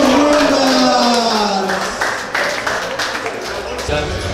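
An audience claps and applauds at a Latvian arm wrestling match, a dense, steady patter of hands from a nearby crowd, while a voice speaks over it the whole time.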